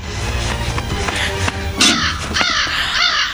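A crow caws repeatedly around a house at night, harsh calls at close range over a steady low background rumble, with one louder burst in the middle.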